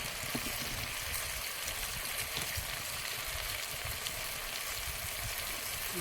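Stew broth hitting a hot pan, a continuous hissing, bubbling sizzle with a watery rush underneath, steady and close, no voices.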